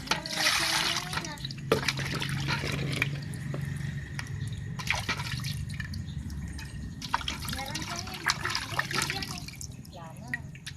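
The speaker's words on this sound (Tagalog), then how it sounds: "Dito hugasan ko." Edible frogs being washed by hand in water, with splashing and trickling throughout and people talking over it.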